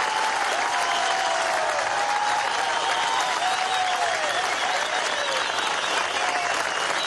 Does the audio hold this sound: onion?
no